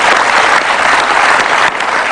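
Loud, dense clapping from a studio audience honoring Megawati Soekarno Putri, a continuous roar of hands that briefly dips near the end.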